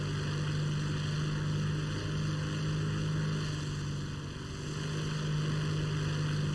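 A Hawker Tempest piston aircraft engine in War Thunder roars steadily at full power during takeoff. The drone is loud and continuous, with a strong low tone and broad rushing noise, and no voices.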